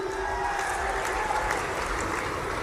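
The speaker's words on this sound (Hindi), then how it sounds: "जोरदार तालियां सचिन भाई के लिए भी" A crowd at a political rally in Khargone, Madhya Pradesh claps in a dense, steady wash of applause that carries on evenly throughout, with a faint voice beneath it.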